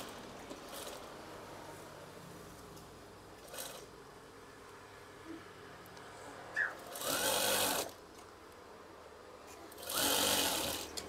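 Sewing machine stitching a folded fabric tie string for a curtain, heard as two loud bursts of rapid whirring stitching separated by quiet handling noise.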